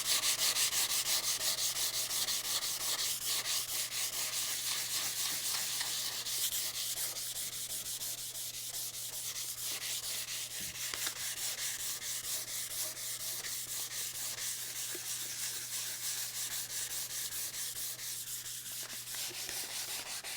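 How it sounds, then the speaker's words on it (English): A rusty table gets sanded by hand with 220 grit sandpaper: a continuous, fast, rhythmic scratchy rubbing that runs steadily for the whole stretch at close range. "I'm going to go to that 220 grit sandpaper, a little bit more abrasive."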